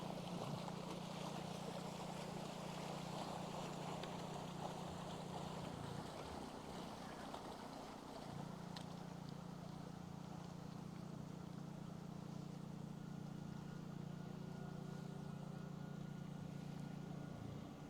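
A motorboat passes on a river near a fisherman by a gravel bar, its steady engine drone holding for a long stretch with water and wind noise, a brief dip midway.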